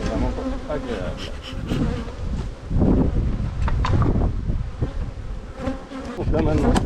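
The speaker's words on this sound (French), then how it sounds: "On enlève encore quelques abeilles pour avoir un minimum d'abeilles dans la voiture." Many honey bees buzz steadily around a hive during a spring honey harvest, with a dense, continuous insect drone and cold wind rumbling against the microphone throughout.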